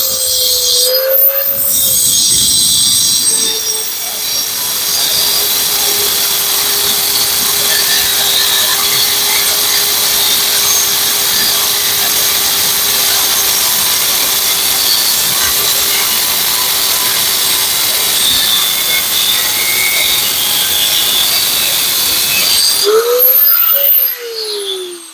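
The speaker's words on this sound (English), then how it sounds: "break out a grinder" A loud, steady grinding whine of an angle grinder cutting scrap metal, running continuously for over twenty seconds before winding down.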